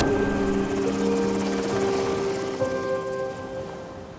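A military helicopter waits as a recruit reaches it during a gruelling selection exercise, its rotor and turbine producing a loud continuous whine and whir that fades slightly toward the end.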